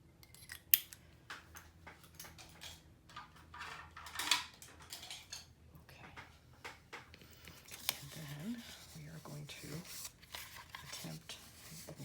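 Scissors snip through scored paper while a pocket is made for a handmade botanic garden journal, giving a few quiet, irregular cuts set against a low room hum, with a voice speaking briefly.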